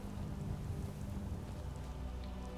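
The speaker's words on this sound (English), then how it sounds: "It's night and it's raining and it's dreary." Night rain in the video game Skyrim, a steady dense patter with a low rumbling undertone, constant and fairly soft throughout, no voices.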